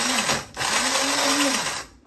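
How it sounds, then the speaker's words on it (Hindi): An electric mixer grinder grinding onions whirs loudly, briefly pausing then revving back up, a steady high motor whine close by. "हम इस अपनी प्याज को ग्राइंड करते हैं"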